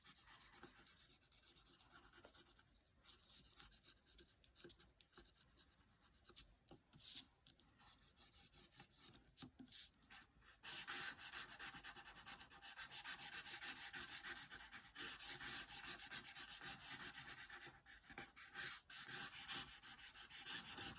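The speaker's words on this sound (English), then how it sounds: "I'm just going to go in and give this a good rub and pray that it all transfers over nicely." A card is rubbed firmly by hand to transfer a design, giving a steady dry scratchy rasping that continues in close strokes, louder and brighter in the latter half.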